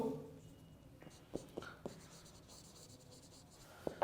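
Faint scratchy strokes of writing on a board during a lecture, a few short scribbles scattered over a quiet room.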